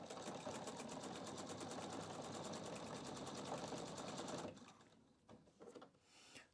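A Pfaff QE 720 sewing machine stitches a reversible ribbon in a fast, steady, loud run of needle strokes that stops abruptly, followed by a few soft handling clicks.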